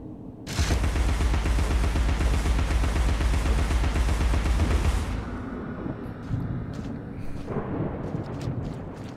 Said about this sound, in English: that's a straight up fucking machine gun now